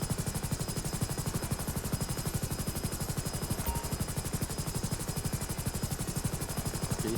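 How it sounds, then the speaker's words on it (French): A coast guard helicopter approaches in the video game GTA 5, its rotor beating in a fast, even, continuous chop that stays loud and steady throughout with no voices. "Et ici hélicoptère des gardes-côtes en phase d'approche."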